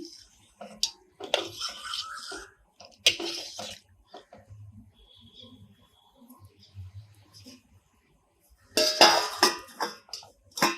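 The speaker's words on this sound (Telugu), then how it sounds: "ఇప్పుడు బాగా కలుపుకోవాలి." A spoon stirs semiya sago kheer in a pot, producing intermittent metallic clinks and scrapes in short clusters, with quiet gaps between and a busier flurry of clatter near the end.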